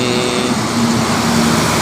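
A Putra Simas intercity bus from Bengkulu bound for Medan rolls past on the road, a steady loud engine and tyre rumble with a faint tonal hum, continuous for about two seconds with no talk.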